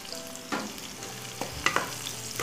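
Mustard seeds crackle in hot oil while greens are being cooked, giving a soft steady sizzle broken by a few sharp pops and clicks of stirring, close and fairly quiet with no talk.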